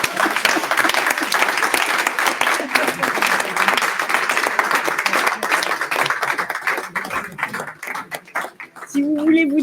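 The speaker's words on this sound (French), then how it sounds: "je vous invite à m'applaudir" Audience applause at a closing event, dense and sustained for about nine seconds, with a few voices in the crowd and the clapping thinning toward the end.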